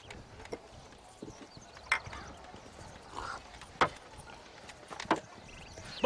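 Horse hooves clip-clopping at a walk in the Western video game Red Dead Redemption, soft scattered hoofbeats with a few sharper clops and faint ambient background, no talking.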